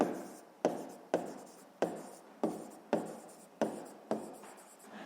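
A pen writes on paper close by in about nine sharp, regular strokes, each fading out before the next, with no voices.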